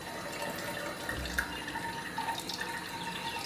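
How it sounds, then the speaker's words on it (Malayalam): Watermelon juice is squeezed by hand and poured into a bottle, a faint, steady liquid trickle with soft dripping and a few small splashes, heard alone in a quiet kitchen. "ഇത് മാറ്റി വെച്ച് ഇതുപോലെ എല്ലാം കുപ്പിയിലേക്ക് പിഴിഞ്ഞൊഴിക്കാം"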